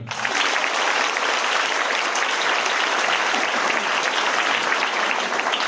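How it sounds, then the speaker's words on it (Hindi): An audience claps steadily and loudly without a break, a dense, even patter of many hands filling the room at an event where a speaker has just called for applause for a daring young woman. "ताली बजाओ उसके लिए"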